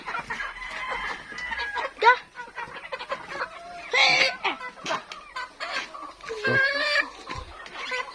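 Native chickens clucking and squawking nearby, with intermittent bursts over quiet conversation.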